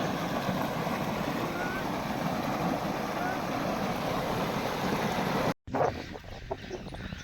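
Water from an irrigation supply gurgles and rushes through a channel on a village farm, a loud, steady, close wash of noise that cuts out briefly near the end before resuming.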